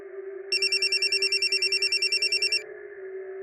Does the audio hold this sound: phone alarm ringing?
yes